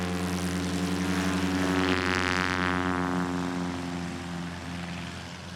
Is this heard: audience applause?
no